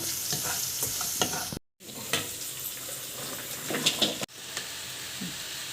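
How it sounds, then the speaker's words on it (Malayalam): Ladies finger (okra) stir-fry with a pinch of turmeric stirred in a pan, with repeated scraping spatula strokes over a steady sizzle, broken by two brief silent cuts. "ഇതൊക്കെ കൂടിയിട്ട് നന്നായി മിക്സ് ചെയ്യാം"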